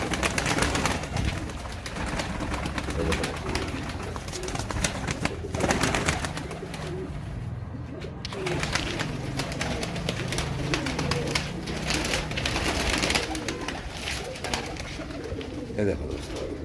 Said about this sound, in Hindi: ये देखो दोस्तों, ये कलदुम है सारे।